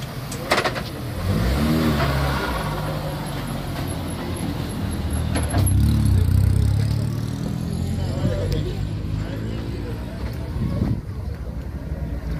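A Citroën C2 rally car on a special stage of the Rallye des Ardennes passes nearby, its engine revving and surging loudly over a continuous rumble, with commentary heard over it.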